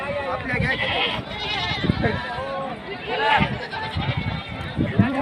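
Goats bleat repeatedly at a busy livestock market in Gangakhed, with several wavering calls rising over constant crowd chatter and nearby voices talking.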